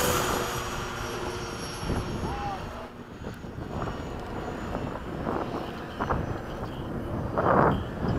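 A MiG-21 fighter jet makes a fast low pass at an airfield, a continuous broad roar that holds steady and swells louder toward the end, with people talking nearby.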